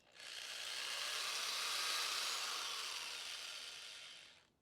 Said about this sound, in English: I'm gonna drill a hole in it so that it slips onto the hook pretty well